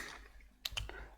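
A few quick, sharp clicks of a computer keyboard while code is typed, arriving as a short burst of keystrokes over a quiet background.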